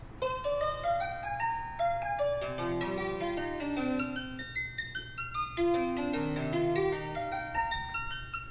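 A bright electronic melody from a MIDI module plays quick repeating synthesizer notes over a steady low hum, rising and falling in a bouncy pattern, fairly quiet and without voices.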